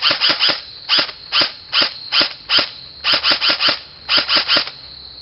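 A Tokyo Marui airsoft gun shoots Madbull tracer BBs on semi-automatic, a series of sharp close pops in irregular bursts of two to four shots separated by short pauses, with no voices.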